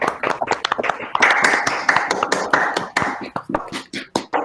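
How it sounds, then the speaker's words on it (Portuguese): At the close of a university lecture on computer science in digital humanities, the audience claps in scattered, distinct hand claps that overlap into a short round of applause, fairly close by. "Aplaudir."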